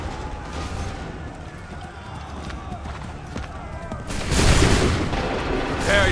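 Musket volley from soldiers in Assassin's Creed III, a loud burst of overlapping gunfire swelling near the end over a steady din of battle noise, with shouted voices in the mix.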